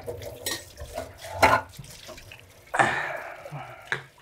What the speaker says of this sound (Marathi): आज आपली वेळ भांडी घासायची.